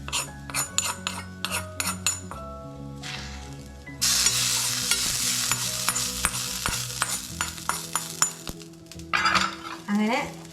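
Sliced bitter gourd with onion for thoran sizzles loudly in a pan as a metal spoon stirs and scrapes in repeated clinks, with a steady frying hiss throughout.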